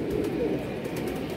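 Pigeons kept in a coop, including paired birds, coo softly and repeatedly close by, low throaty murmurs over a steady background hum.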